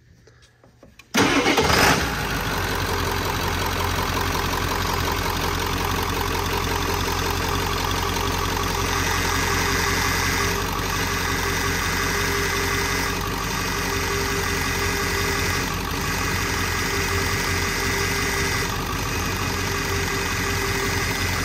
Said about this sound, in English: I cranked it back up after flushing it, let it run